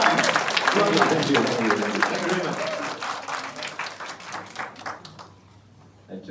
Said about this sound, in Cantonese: 請大家以熱烈嘅掌聲歡迎我哋嘅演講嘉賓，蔡陸雄先生。